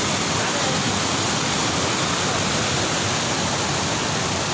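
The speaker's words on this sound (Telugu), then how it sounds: "మంచి అందమైన జలపాతంగా ఏర్పడుతుంది" A large waterfall in a valley during heavy rains in Nellore, roaring as a dense, steady rush of falling water that stays loud and unbroken throughout.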